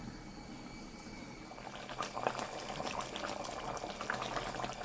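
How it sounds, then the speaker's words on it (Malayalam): Chicken curry simmers covered in a pot, a steady bubbling hiss with soft pops and gurgles throughout, no voices. "ഇനി കുറച്ച് നേരം കൂടി നമുക്ക് അടച്ചിട്ട് വേവിക്കാം."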